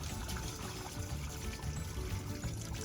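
Sewage gushes from an RV's black waste tank through a drain hose, a steady, dense rushing pour that runs continuously and fairly close without pause or speech.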